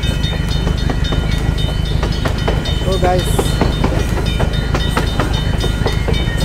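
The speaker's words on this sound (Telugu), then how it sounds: "మనకి ఇప్పుడు ట్రైన్ వస్తుంది అనుకుంటాను" A train passes in the mobile driving game Russian Car Driver UAZ Hunter, a steady loud rumble with rhythmic clickety-clack of wheels, while someone talks over it.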